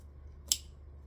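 A single quick snip of scissors trimming thread after machine stitching, one short crisp cut over a quiet low hum.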